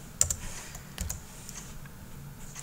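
A few scattered keystrokes on a computer keyboard while entering a period in a spreadsheet cell, quiet and close, with a sharper click at the very end.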